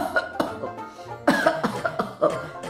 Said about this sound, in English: they hear a sound of coughing